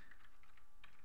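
Typing on a computer keyboard while entering quiz questions: a steady run of light, close key clicks with a brief denser burst near the end, heard alone with no talk.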